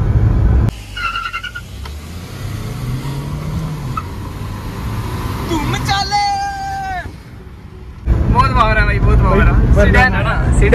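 Two Hyundai cars, a Verna and an i20, launch side by side in a drag race, engines revving loudly and climbing through gears with rising whines, then a brief lull before another loud surge, with crowd chatter mixed in.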